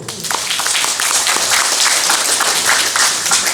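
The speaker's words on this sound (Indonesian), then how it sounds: "Tepuk tangan dulu" Audience applause under a tent at an Islamic boarding school community gathering, a steady dense wash of many hands clapping throughout, fairly close and loud.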